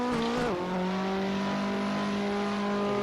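Drift car engine revving hard on an uphill run, a loud steady high-pitched drone that dips briefly as the revs shift, then holds strong and even.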